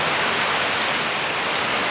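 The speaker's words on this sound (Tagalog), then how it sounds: "napakalakas ng ulan dito sa Camarines Sur" Heavy rain in Camarines Sur pours onto a balcony as a dense, loud, unbroken hiss of countless drops.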